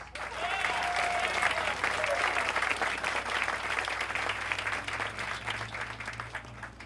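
Audience applause for elected county officials being introduced at a ribbon cutting for the Larimer County Loveland Campus, a sustained crowd clapping that stays loud and steady throughout, with some talk mixed in.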